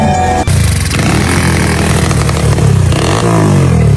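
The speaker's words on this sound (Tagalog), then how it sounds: "pinapainit natin yung makina guys." A drag-racing motorcycle engine idles loudly and close, revving up and down in rough, throaty bursts while warming up, no talking.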